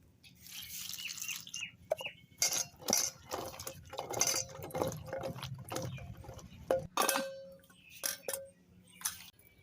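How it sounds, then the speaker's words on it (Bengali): Peeled garlic cloves washed in water in a kitchen pan, giving close, irregular splashes, drips and light clinks in short bursts over a low steady hum, with no talking. "এখন এই রসুনগুলো আমি ধুয়ে নেব।"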